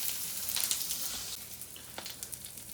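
Onion frying in a pan, a steady soft sizzle with faint crackles and an occasional light stir, close and moderately quiet.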